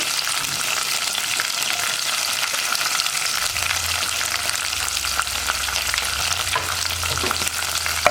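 Sliced onion and curry leaves sautéing in hot oil for a Kerala kadala curry, a steady loud sizzle with scattered crackles and occasional spoon scrapes throughout, no talking.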